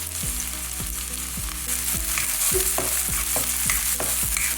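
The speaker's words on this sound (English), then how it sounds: "Put in our garlic, our onions." Garlic and onions sizzle steadily in a hot pan while being cooked with chokos, with a continuous frying hiss and regular rhythmic knocks and scrapes of stirring throughout.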